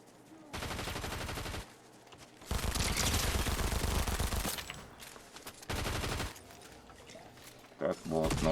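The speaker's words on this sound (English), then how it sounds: "there's someone shooting" Bursts of gunfire in a video game, loud rapid volleys arriving in three separate clusters with quieter gaps between, some speech-like sound underneath.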